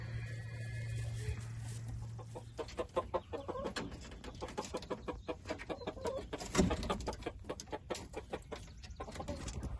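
Several chickens cluck and chatter nearby in quick irregular bursts, with a brief low hum at the start and no talking.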